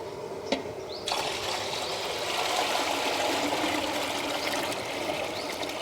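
Water pours off rice that has soaked for about half an hour, draining in a steady close trickle after a brief click. The flow stays even and continuous, with no speech.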